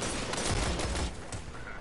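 A fast, dense burst of video-game gunfire cracks loudly and evenly through the short moment, then eases off slightly at the end.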